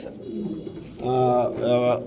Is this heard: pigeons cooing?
yes